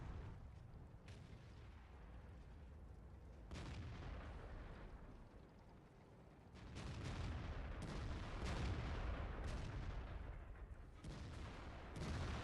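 Several deep, booming tank cannon blasts from a video game, each a heavy thud with rumbling tail, spaced irregularly over continuous low engine drone.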